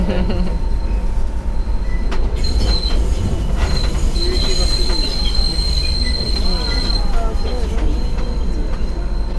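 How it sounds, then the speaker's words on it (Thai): Enoden electric train rolling along its rails near Kamakura at about 20 km/h, wheels squealing in long high-pitched whines over a steady loud rumble, with faint voices in the background. "ก็รถไฟขบวนนี้เขาจะวิ่งด้วยความเร็ว 20 กิโลเมตรต่อชั่วโมง"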